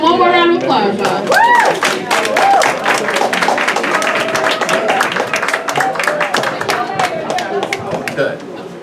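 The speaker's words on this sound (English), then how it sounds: "Let's give him one more round of applause, y'all." Audience at a community institute's 40th anniversary celebration giving a round of applause, a dense steady patter of many hands close by, mixed with crowd chatter and voices throughout.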